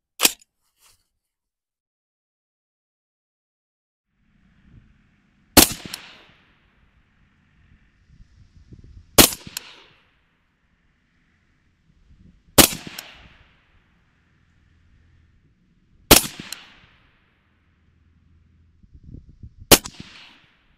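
An AR rifle fires 77 grain 5.56 ammunition at a 100 yard outdoor range, sending six loud, sharp single shots several seconds apart, each with a short ringing decay, and faint handling noise between them.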